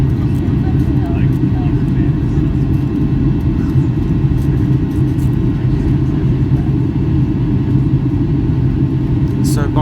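Steady, loud broadband roar fills the cabin of an Icelandair Boeing 757-256 with winglets climbing out of Minneapolis, an unbroken engine and airflow rumble with no letup throughout.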